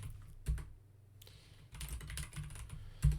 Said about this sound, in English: I have to type it properly.